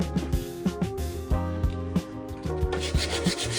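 A wooden dowel sanded while spinning on a lathe, a steady rasping rub broken by a series of sharper rhythmic scrapes and knocks, close and moderately loud, with no talking.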